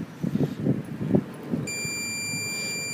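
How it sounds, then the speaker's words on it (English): A digital satellite finder's buzzer starts partway through and holds a steady, piercing high tone. Before it begins there are a few soft handling knocks against a quiet background. "you can hear the buzzer as well going"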